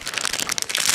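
Scissors snip through the plastic wrapping on an individually packaged Ecuadorian banana, a brief close crinkly rustle lasting about a second.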